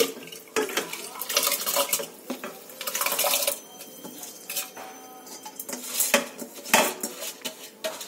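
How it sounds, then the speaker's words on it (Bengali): Washed rice tipped into a pot of hot water, with clattering metal pot and utensil knocks and wet pouring rushes in uneven bursts, close and moderately loud, no talk. "এবারে দেখো, আমি চালটা হাঁড়িতে তুলে দেবো"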